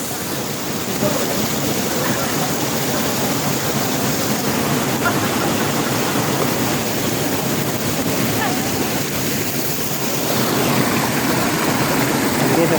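Hulugan Falls in Laguna, low on water in the dry season, sends out a steady broadband rush of falling water. It is loud and continuous for the whole stretch, with no voices over it.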